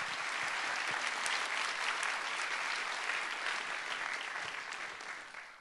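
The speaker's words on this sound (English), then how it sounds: "So maybe a round of applause to everyone." Sustained audience applause at a school event, a dense, steady clapping from a room of people that holds evenly for several seconds before easing slightly at the end, with no voices over it.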